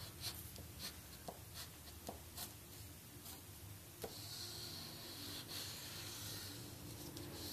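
Pen-like drawing tools scratching and scribbling on paper, a soft close hiss of quick strokes with brief taps and pauses, faint and continuous without talk.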